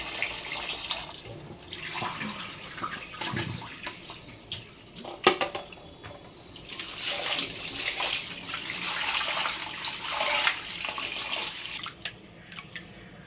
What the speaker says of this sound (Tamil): முதல் தண்ணி ஊற்றி நல்லா அலசி கீழே ஊற்றிடுங்க